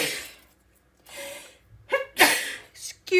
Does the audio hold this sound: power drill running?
no